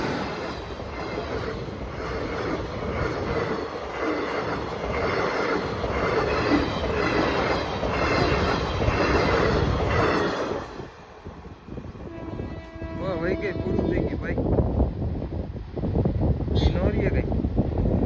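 A train rolls past a closed railway crossing in Kutch, its loud rhythmic clatter of wagons close by, then a horn sounds as the passing fades; people talk over the noise.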